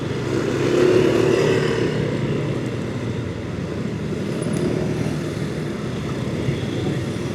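A minibus and a motorcycle pass on a city road near a university campus, with a steady close engine rumble that swells briefly and then settles into continuous traffic noise.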